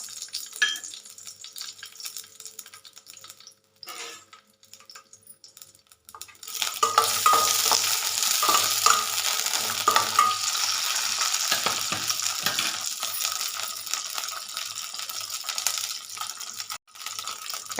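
Cooking oil heating and sizzling in a pan after cumin and sesame seeds were roasted, quiet at first, then a steady crackling fry from about seven seconds onward with occasional stirring clinks.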